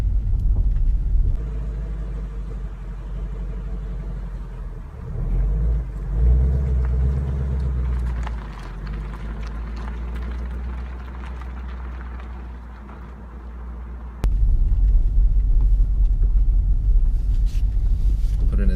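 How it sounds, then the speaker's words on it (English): A manual car creeping off on the clutch alone with no throttle, heard from inside as a steady low engine and road rumble that swells abruptly near the end. "The car is slowly starting to move. I can feel the clutch grabbing, that's why the car is moving."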